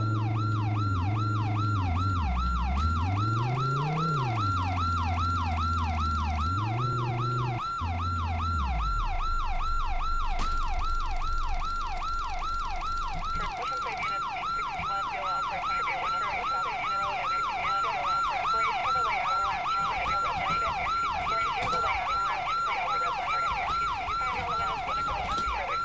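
A police vehicle siren from a patrol video game set in Blythe, California, wails loudly and continuously in a rising and falling cycle, with engine rumble beneath it and no talking.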